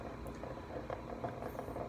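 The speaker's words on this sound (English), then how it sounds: "That's the sound of my coffee maker you hear." A coffee maker running in the background, giving a faint, steady low rumble with soft bubbling and gurgling, distant and quiet throughout.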